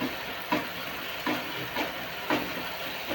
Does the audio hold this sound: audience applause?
no